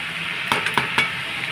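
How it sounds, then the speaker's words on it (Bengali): Potatoes fry in a pan with a steady hiss, while a utensil clinks and scrapes against the pan a few times in quick succession; close and fairly quiet, with no talking. "আর এদিকে আলু ভাজাটা হচ্ছে।"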